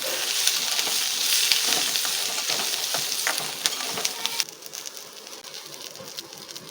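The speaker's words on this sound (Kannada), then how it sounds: "ಈಗ ಬೆಳ್ಳುಳ್ಳಿ ಹಾಕ್ಕೊಳ್ತಾ ಇದ್ದೀನಿ ಶುಂಠಿ ಹಾಕ್ತಾ ಇದ್ದೀನಿ ಈಗ ಇದೆರಡು ನಿಮಿಷ ಫ್ರೈ ಮಾಡ್ಕೊಳ್ಳೋಣ" Garlic and ginger fry in a pan for mutton biryani, making a loud, close, continuous sizzle with small crackles. The sizzle eases and turns quieter partway through.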